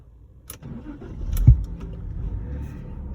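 A red 1996 Jaguar XJR6 with a coolant leak cranks and fires, a brief starter whirr swelling into a loud catch around the middle, then settling into a smooth, steady low idle up close.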